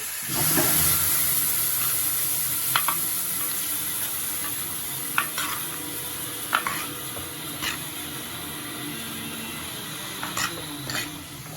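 Chopped tomatoes frying and sizzling in a pan with previously fried ingredients, a steady hiss throughout punctuated by occasional scraping stir strokes.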